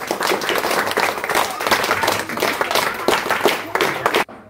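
A group of children and adults clap for a drawing-competition prize winner at a Children's Day event, a dense burst of close applause lasting a few seconds before cutting off abruptly.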